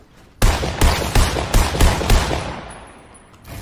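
Rapid gunfire from a scoped weapon in the battle royale game Fortnite, about seven sharp shots in quick succession, then a fading tail and a quieter final shot.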